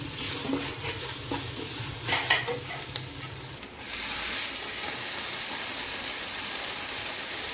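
Chicken pieces drop into a pan of frying onions with salt, setting off scraping stirs and clinks, then a steady soft sizzle that settles in and continues alone.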